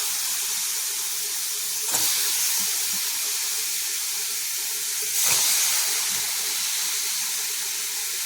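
Constant loud hiss of eggplant frying in a pan, steady throughout with a couple of brief bursts of stronger sizzling.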